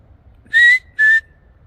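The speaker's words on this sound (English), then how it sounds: "Is that a whistle?" Two short, clear whistled notes, fairly loud and close, break the near silence of a night in the woods, the second briefly sliding into a faint held tone.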